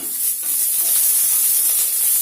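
Dried red chillies fry in a covered pan, giving a steady, close, bright hiss and crackle that holds evenly without pauses.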